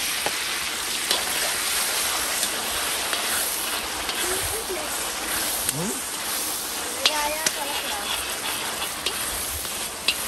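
Onion, garlic and pepper fry in hot oil for an iguana curry, giving a steady broadband sizzle that runs the whole time with a few small pops and clinks, while voices talk faintly in the background.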